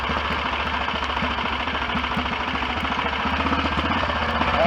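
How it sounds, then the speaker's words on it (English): A BSA DBD34 Gold Star 500 scrambler's single-cylinder engine runs steadily close by, its rapid even firing pulses thumping through the whole stretch with mechanical clatter on top, loud and alone. "it'll give the engine a bit of running time"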